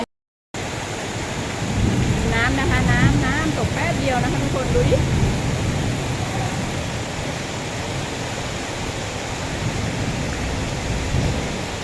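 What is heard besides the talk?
heavy rain and thunder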